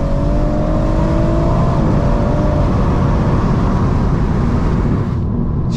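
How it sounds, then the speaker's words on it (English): Tuned Stage 2 BMW M140i with about 480 bhp accelerating hard at full throttle, a loud, sustained engine roar with rising tone heard close up from inside or near the car, steady and continuous throughout. "Bro, this car actually sounds mental."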